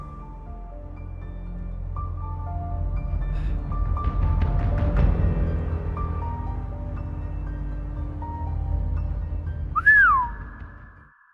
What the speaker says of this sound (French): Jackson émit un sifflement.